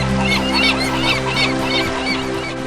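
Geese or similar fowl honk in a loud, repeated run of calls over a background of music, set in a children's story about a young tortoise by a riverbank watching birds.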